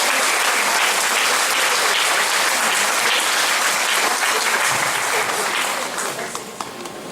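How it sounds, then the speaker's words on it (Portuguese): Seminar audience giving sustained applause, a dense crowd of hands clapping loudly and continuously, tapering slightly near the end. "pedir mais uma vez uma salva de palmas para a Lagoa"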